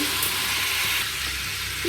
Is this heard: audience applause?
no